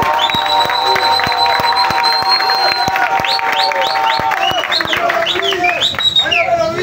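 A referendum rally crowd applauds and cheers, steady clapping and shouts running throughout, loud and close, with sharp rhythmic beats and whistle-like tones mixed in over the crowd noise.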